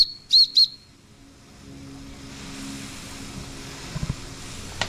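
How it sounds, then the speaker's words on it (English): Two short, high whistle toots in quick succession from a Wilesco D21 toy steam engine, then quiet hissing and faint clicks of machinery. "Here's the whistle, a little bit for you."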